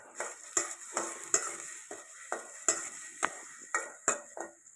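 A spoon stirs chicken curry with almond and onion paste in a pan, giving about a dozen evenly spaced scraping clinks over a soft sizzle, close and alone.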